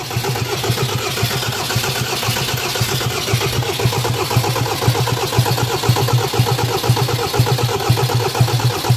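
A Ford Transit engine cranks and fires up, settling into a loud, steady, throbbing idle close by with a rhythmic diesel-like knock and no voices over it.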